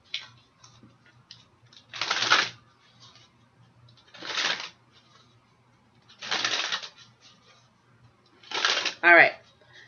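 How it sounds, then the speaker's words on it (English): Tarot cards shuffled in four quick separate bursts spaced about two seconds apart, close and crisp riffling with near silence between each shuffle. "So let me do 4 quick shuffles here."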